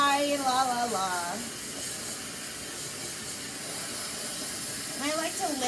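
A hair dryer blows in a steady broadband rush while hair is rough dried at the roots during a Kenra Platinum blow-dry, running continuously for several seconds with someone talking at the start and end.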